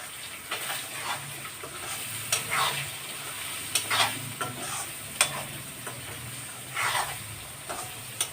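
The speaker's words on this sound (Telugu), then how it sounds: "ఇప్పుడు ఈ స్టేజ్లో మనం దీన్ని బాగా కలిపేద్దాం." A spicy egg mixture stirred in a hot pan: repeated scraping strokes of a spatula over a continuous sizzle, close and fairly loud, with no talking.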